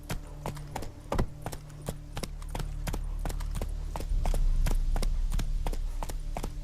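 Horse hooves clip-clop in a quick, steady galloping rhythm while riding in The Witcher 3 video game, loud and close over a low rumbling backdrop with a faint voice.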